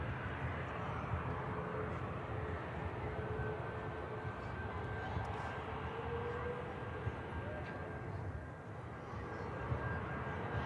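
A Ryanair airliner taxis at Manchester Airport, its engines making a steady, broad, low rumble with a faint whine, moderately distant and unbroken throughout.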